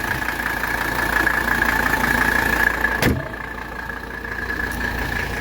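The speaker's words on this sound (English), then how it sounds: "Here we go. And we'll rev it up." A 1985 Mercedes 300SD diesel engine runs steadily near at hand, holding a constant tone while revved, then drops off sharply with a brief click and settles to a lower idle.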